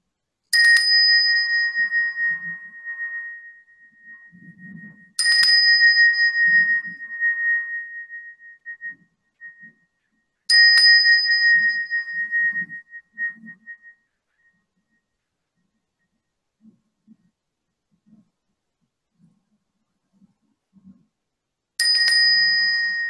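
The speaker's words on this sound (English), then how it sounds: "as I play the bell" A meditation bell is struck four times at roughly five-second intervals, each bright ringing tone decaying slowly into near silence, with faint low rustling between strikes.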